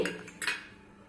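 A metal spoon clinks and scrapes against a bowl in a few quick strokes while rice flour batter with orange food colour is mixed, close and brief, then fading to quiet.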